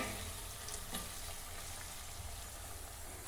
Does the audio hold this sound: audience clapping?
no